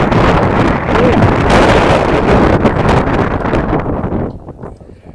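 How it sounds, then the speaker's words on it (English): Heavy wind buffeting an outdoor microphone on a cold, gusty day at a high school softball game, a loud, continuous rumbling roar that eases off near the end. "this is a lot of wind noise"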